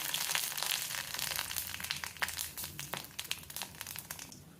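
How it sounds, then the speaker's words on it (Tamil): Mustard seeds, asafoetida and dried red chillies crackle in hot oil in a kadai for rasam, with loud, close spitting pops that thin out toward the end, no voices. "எண்ணெய் சூடானோன்னு கடுகு பெருங்காயம் வரமிளகாய்"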